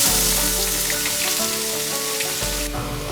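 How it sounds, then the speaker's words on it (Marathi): Finely chopped onion dropped into hot oil with spluttering mustard seeds and bloomed cumin, frying in a steady, loud, continuous sizzle throughout, with a brief surge near the end. "आता ह्याच्यात आपण बारीक चिरलेला कांदा घालायचा आहे।"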